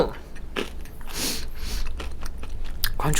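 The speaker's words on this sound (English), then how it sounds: "Crunch, crunch, crunch." Crunchy bites into a square praline from a shop in Saint Emilion, France, with several close, sharp crunches and chewing spread through the stretch.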